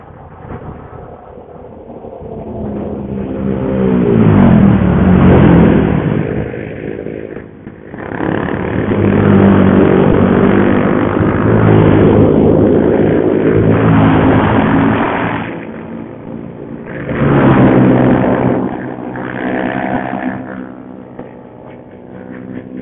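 Motorcycle engine struggling in low gear, unable to pull in second, revving up and dropping in uneven surges as the rider works the throttle, loud and close throughout with brief lulls between bursts.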